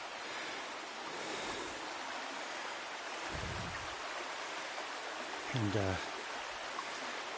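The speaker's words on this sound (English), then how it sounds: "Here we have Bluff Creek." Bluff Creek flows with a continuous broad rush of water outdoors, a low thump and a brief voice rising faintly over the steady current.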